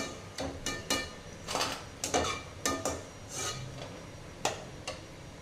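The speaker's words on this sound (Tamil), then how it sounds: "நம்ம தட்டில் சேர்க்கும் போது சத்தம் பார்த்தீங்கன்னா நல்லா கலகலன்னு கேட்குது பாருங்க" Crispy fried ragi murukku clatters onto a plate in a rapid series of light, dry clinks and rattles, about a dozen separate hits at close range with quiet gaps between them.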